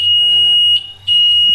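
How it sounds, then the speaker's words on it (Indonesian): A homemade continuity tester built from two pins gives a loud, steady high-pitched electronic beep when it checks a cable that is not broken. The tone sounds continuously with one short dip in the middle, and there is no talk. "jika kabel tidak putus maka untuk alat ini akan berbunyi ya guys."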